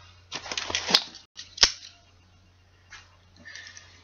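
A Kershaw Burst assisted-opening pocket knife is flicked open with a sharp metallic snap, heard after some mechanical clicking and handling, then followed by fainter clicks. The sound is close and there is no talking.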